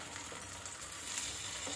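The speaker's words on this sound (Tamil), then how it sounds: "அந்த தக்காளியை ஊற்றிக்கலாம்." Ground tomato paste poured into a sizzling pan for squid gravy, giving a steady close frying hiss with soft crackles and stirring throughout, no voices.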